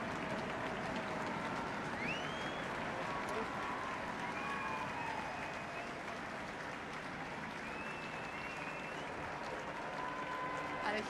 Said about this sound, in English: a huge round of applause from the thousands of people who have gathered here in the Mall